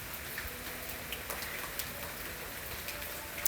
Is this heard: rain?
yes